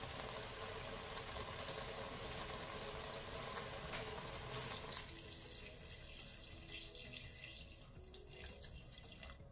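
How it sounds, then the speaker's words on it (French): Water poured from a tap into a Cookeo multicooker pot, a continuous dense rushing stream that runs steadily, then softens slightly midway as the pot fills, close and without speech. "Maintenant, on va mettre de l'eau."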